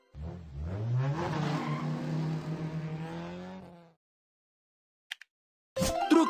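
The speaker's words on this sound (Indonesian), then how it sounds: "Mobil Formula." A Formula race car tears past with a harsh, rising engine whine and squealing tires for about four seconds, loud and close, followed by a few brief, faint sharp noises near the end.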